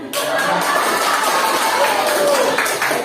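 Dense audience clapping and crowd noise at a school teachers' presentation, a steady broadband wash of applause lasting the whole few seconds with some voices mixed in.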